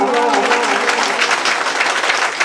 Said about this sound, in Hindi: इसलिए जोरदार तालियां